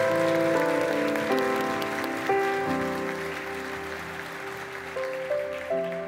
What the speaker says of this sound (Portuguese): uma salva de palmas para esses líderes